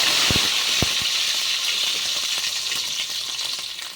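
Masala spices dropped into very hot oil alongside beef, giving a loud, steady close sizzle and crackle with a few sharp clinks of utensil against the pan at the start, no talk.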